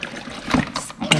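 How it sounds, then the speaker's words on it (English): An LG Knock Twice refrigerator water dispenser sputters water and trapped air into a pitcher after a new filter is fitted, giving short irregular spurts and splashes. A person talks over it. "It spit out some water there."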